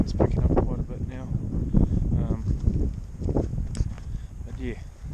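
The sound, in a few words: strong wind blowing on mountainside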